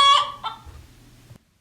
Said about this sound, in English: rabbits and chickens.